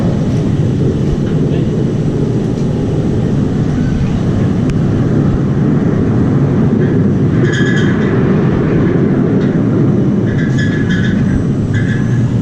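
Runaway Mine Train roller coaster at Six Flags Over Texas rumbling along its track in a steady, loud roar, with faint distant voices and a few higher bursts partway through.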